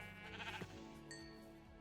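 A sheep in the video game Minecraft lets out a short, fairly quiet bleat, with the call wavering briefly before fading, and no talk over it.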